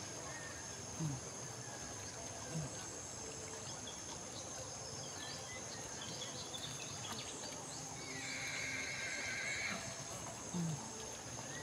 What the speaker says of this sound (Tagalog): Yan na, tumatawid yung kabayo.